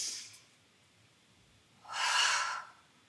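One big breath during a yoga session: a soft, faint intake and then a louder, breathy exhale, close to the microphone in a quiet room.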